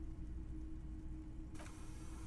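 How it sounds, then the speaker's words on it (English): A Valson crane at a harbor in the game Disco Elysium, heard as a steady low mechanical hum that runs on unbroken, with a brighter, airier layer joining near the end. "That's the sound of a Valson crane."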